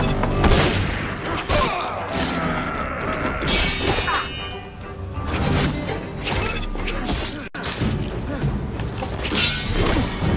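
Gunfire in the video game Assassin's Creed Unity rattles loudly alongside metallic clangs, whacks and crashes of a chaotic combat scene, dense and continuous throughout.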